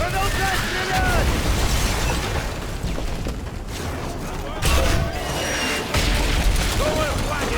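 Mortar explosions in the video game Modern Warfare 3 come as heavy, rumbling booms over continuous battlefield noise. Someone shouts over the din throughout.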